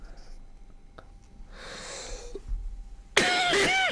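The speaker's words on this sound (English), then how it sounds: "I do apologize for all the coughing" Coughing during a spoken lesson: a faint throat sound first, then a sharp, loud cough burst close to the microphone near the end, with a little breathy noise beforehand and no clear talk.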